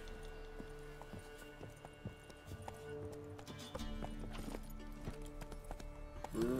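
Horse hooves from Roach, the mount in The Witcher 3 on Skellige, clip-clop in a steady rhythm at moderate distance over a continuous game background bed, with a brief whinny near the end.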